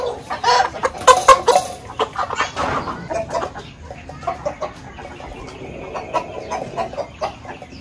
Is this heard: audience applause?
no